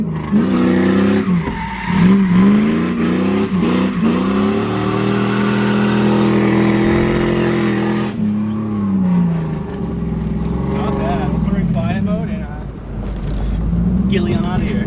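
A car on new coilovers drifts on the street, engine revving hard with rising and falling pitch and tire squeal, loud and close, then easing off; a voice talks over part of it.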